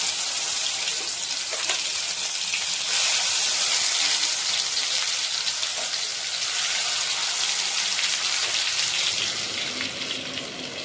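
Ground spice paste hits hot oil with cumin for Khandeshi shev bhaji, a loud continuous hiss and crackle that sizzles evenly throughout and eases slightly toward the end, with no talking.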